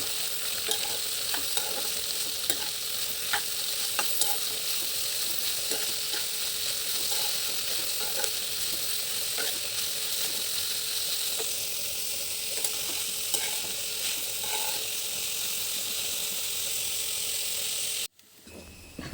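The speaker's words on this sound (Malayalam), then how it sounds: "അരിഞ്ഞ് വെച്ചിരിക്കുന്ന സവാള എല്ലാം ഇട്ട് കൊടുക്കാം എന്നിട്ട് അതിന് നന്നായിട്ട് ഇളക്കി നമുക്ക് വഴറ്റിയെടുക്കാം" Chopped onions frying in a pan for a Kerala-style crab roast, with a steady close sizzle and frequent scraping stirs against the metal, carrying on evenly for a long stretch with no voice heard.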